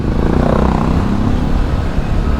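Road traffic on a Philippine street, a steady close mix of car and motorcycle engine rumble with no pauses and no voices.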